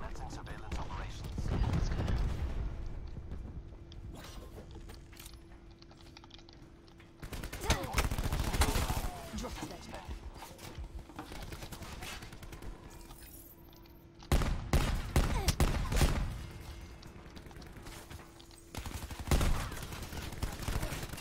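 Bursts of gunfire in the multiplayer video game Call of Duty Black Ops 4, with several loud volleys at intervals against quieter game noise.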